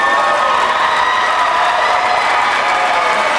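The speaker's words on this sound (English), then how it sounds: "So a round of applause for those 10," A live poetry slam crowd at Verselandia breaks into steady, loud applause mixed with cheering and whoops, a dense continuous wash of clapping that fills the whole stretch without letting up.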